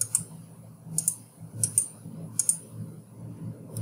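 A value is typed on a computer keyboard: a few soft, quick keystrokes in small clusters, close and fairly quiet, over a faint room hum.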